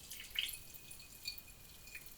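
Water squeezed out of a soaked sponge, heard as a few faint, soft drips and trickles spread over a couple of seconds against a quiet background.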